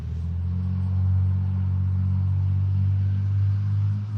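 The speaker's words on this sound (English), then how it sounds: "There's a road nearby. There's a truck" A truck passes on a road near a cemetery, producing a steady, loud low rumble that swells slightly midway and holds throughout, with no speech.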